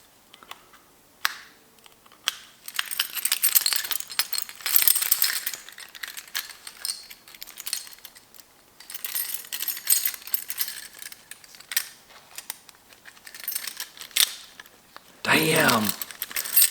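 Car keys jangle and clink as an Alcantara GTR keyring for a Nissan GTR R35 is attached, with bursts of metallic rattling throughout and a sharp final rattle near the end.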